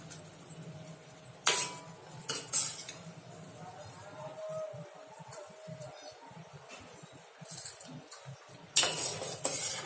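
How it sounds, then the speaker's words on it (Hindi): Apple murabba, apple cooking with sugar, is stirred in a pot, giving soft scattered metallic clinks and scrapes of a spoon against the vessel, a few sharper knocks standing out over a quiet background. "और इसको हम चला देंगे।"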